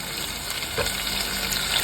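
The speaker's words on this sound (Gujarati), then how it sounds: "ચાલો આપણે હવે પાણી નાખી દઈએ" Water is poured into a hot cooking pan, giving a short steady gush and sizzle that lasts under two seconds with no talking.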